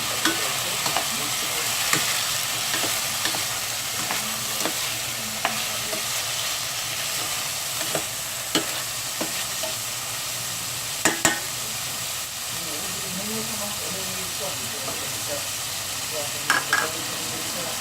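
Pork frying in a pan for Bicol Express: a steady, close sizzle with occasional stirring scrapes and taps, continuous throughout.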